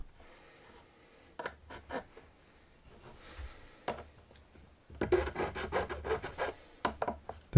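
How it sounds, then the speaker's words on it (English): A crowning file rasps along the edges of the frets on a cheap acoustic guitar, making close, dry scraping strokes, sparse at first and then a dense run of quick repeated rubs. "Using a crowning file, it means I can file quite safely without damaging the fingerboard."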